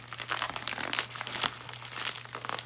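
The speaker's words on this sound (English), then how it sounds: "Should be able to just rip the rest of it open." A plastic package for budget puzzle cubes is torn and ripped open nearby, a run of loud crinkling and tearing bursts with sharp crackles at an uneven pace.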